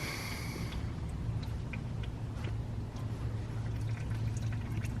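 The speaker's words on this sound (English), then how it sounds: "while it drains, that's condensation, that's not oil" Oil and condensation drain from a flood-damaged Ford Focus RS engine in a steady trickle under a low, constant hum, with a few faint drips and clinks scattered throughout.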